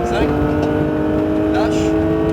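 Porsche 911 GT3 engine accelerating on the Mirevaal race circuit, a loud, sustained tonal roar heard from close by, holding a steady pitch with a slight rise.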